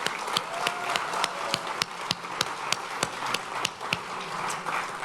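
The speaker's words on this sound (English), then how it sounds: "Let's give them another round of applause." A small audience at a regional Iranian cuisine culinary conference claps with sparse, distinct, fairly soft hand claps that thin out toward the end.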